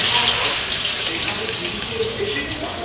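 Water runs and drips steadily from grated potatoes squeezed by hand, a close, continuous splashing trickle with no talking.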